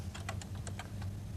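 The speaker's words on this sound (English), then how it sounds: "we do this by typing star Prestel" Fingers type on the keyboard of a 1982 home micro computer, a quick run of close, light key clicks in an irregular rhythm over a low steady hum, with no talk.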